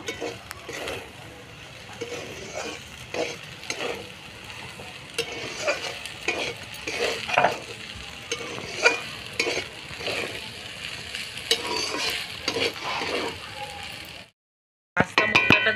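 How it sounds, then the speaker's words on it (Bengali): Egg added to a pan of fried pasta with vegetables sizzles steadily while being stirred, with scraping strokes recurring through a continuous frying hiss before a brief cut. "পাস্তাটা ভাজা হয়ে গেছে, ডিমটা দিয়ে দিলাম।"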